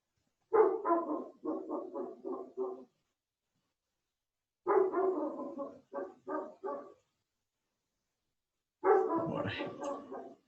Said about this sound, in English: I think the dog is barking.